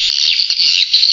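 Swiftlet call played through a bird-house speaker, a steady, loud, high chirping trill that runs unbroken through the whole moment, with no voices.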